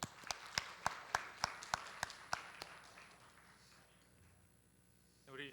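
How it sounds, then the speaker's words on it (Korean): A congregation at a Korean Sunday worship service claps in unison, about ten sharp, evenly spaced claps that then fade into quiet room tone. "박수."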